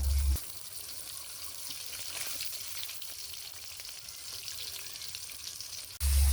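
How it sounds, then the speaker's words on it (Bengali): Eggs frying in a pan over a village kitchen fire give a steady, close, moderate crackling sizzle that holds evenly for several seconds, with a louder low rumble at the very start and end and no one speaking. "আমি কপির বড়া করব আর ডিমগুলো ভাজি করব।"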